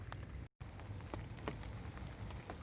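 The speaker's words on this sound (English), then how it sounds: "There's the rain." Steady rain patters on water during an afternoon perch fishing session at a pond, a faint continuous hiss dotted with scattered drop ticks.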